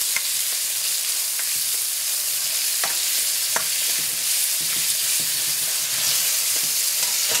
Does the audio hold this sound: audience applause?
no